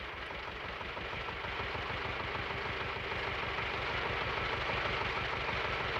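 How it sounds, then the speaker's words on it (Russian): A car engine idles and knocks with a steady, rapid mechanical tapping over a deep, continuous rumble, loud and close, with no voices. "Кисов, у тебя, между прочим, мотор стучит."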